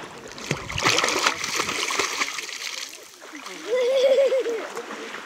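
A person splashes into the water of a swimming quarry at Zhostovo, a burst of splashing and churning near the start that settles, then a voice calls out over lapping water.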